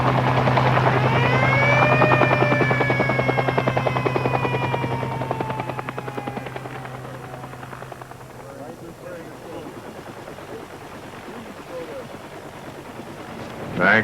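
A helicopter carrying ballots arrives in Los Angeles on primary election day, its loud, steady rotor and turbine drone fading gradually as it moves away, with wind buffeting the microphone.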